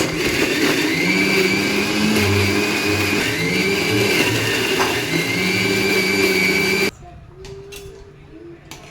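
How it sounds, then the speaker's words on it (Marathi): Mixer grinder whirring as it grinds ginger and garlic into a paste, a loud steady motor drone for about seven seconds before cutting off abruptly, leaving quieter kitchen background. "थोडेसे अजून फिरून घेऊ त्याच्यात मी आलं आणि लसूण टाकलं"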